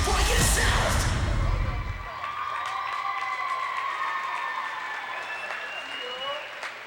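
Applause from an audience after a Sheboygan South varsity cheer and stunt performance, with a loud burst of clapping and whoops at the start, then settling into sustained, steadier clapping and scattered cheers that fill the hall.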